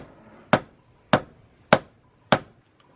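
Four sharp metallic hammer strikes on a silver ring land at a steady, unhurried pace, each ringing briefly before fading into near silence.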